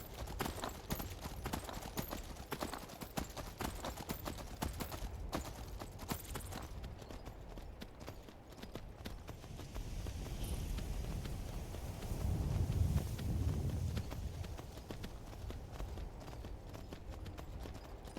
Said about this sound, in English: I don't ride horses in this game, so I can't guarantee that it won't crash while I'm